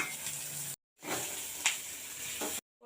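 Onion, garlic, cinnamon, cardamom, bay leaves and black cumin sizzling in fish oil in a pan, a steady bright frying hiss broken by brief silent cuts and a stir, close and fairly loud.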